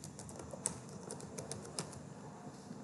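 A password is typed on a computer keyboard in quiet, irregular keystrokes, faint and close, with a few sharper clicks standing out.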